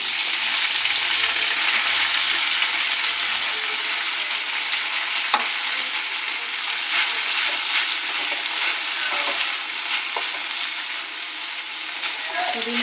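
Mint and coriander leaves frying in oil, a continuous bright sizzle with occasional stirring scrapes and clicks, close and fairly loud, steady for the whole stretch.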